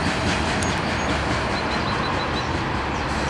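A Norfolk Southern northbound short grain train rolls past close by at a road crossing in Columbus, Ohio, giving a loud, steady roar of rail cars and wheels that holds through the whole stretch, with no talking.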